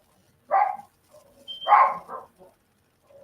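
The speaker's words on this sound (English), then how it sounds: "Now, there go the dog." A dog indoors gives a few short barks, loud and fairly close, spaced about a second apart, with a soft whine between them and no talking.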